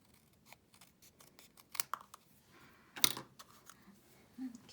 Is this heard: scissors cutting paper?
yes